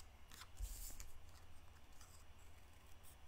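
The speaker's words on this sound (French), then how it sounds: "je vais m'en découper un au ciseau" Scissors cutting paper for scrapbooking, a series of soft snips and paper rustles at close range, quiet and without talk.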